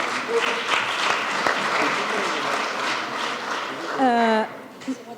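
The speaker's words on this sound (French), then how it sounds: "on les applaudit." An audience at a telemedicine award ceremony applauds steadily, a dense and continuous clapping that fills the room with a voice briefly heard near the end.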